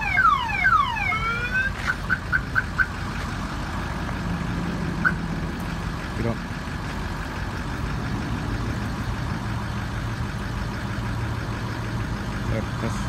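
A two-way car alarm on a police vehicle wails through rapid rising sirens, then a short run of chirps, before fading into an idling engine hum with voices nearby.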